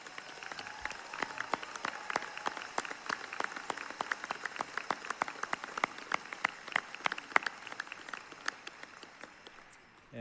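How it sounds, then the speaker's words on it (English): A commencement audience claps for graduating ROTC cadets, sparse distinct handclaps spread across a large space, fairly soft and scattered rather than a dense roar. "would all of our graduating ROTC folks, cadets, please stand up for us so we can see you and clap for you"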